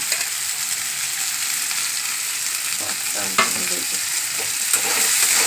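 Capsicum and green chillies fry loudly in a hot pan, with a dense, constant sizzle close by and a few scraping stirs and clacks from the spatula partway through.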